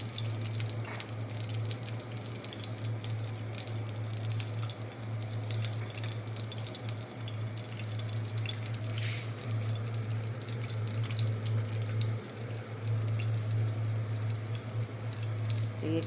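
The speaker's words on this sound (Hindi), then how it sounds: "तो ये कबाब हमने इसे तलने के लिए रख दिया।" Beef shami kababs fry in oil with a steady, even sizzle and a low continuous hum underneath, heard without talking throughout.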